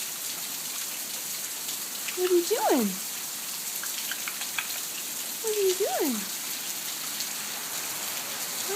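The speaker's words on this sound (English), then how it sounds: "Are you guys in the rain?" Rain falling steadily outdoors, a continuous soft hiss of drops with a person speaking briefly over it twice.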